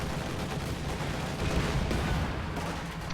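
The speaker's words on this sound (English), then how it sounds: "Incendiary artillery into the capture circle now." Incendiary artillery barrages pound a capture circle in a WWII real-time strategy game, a dense continuous rumble of overlapping blasts and crackling fire, loud and sustained throughout with a slight swell midway.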